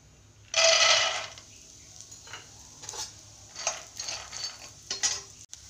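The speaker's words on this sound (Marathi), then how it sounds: "आपण त्यामध्ये शेंगदाणे तळून घेऊ आपण आता।" Peanuts tossed into a spoonful of hot oil in a pan: a loud, close sizzling hiss bursts out at first, then fades into intermittent scraping and stirring clinks.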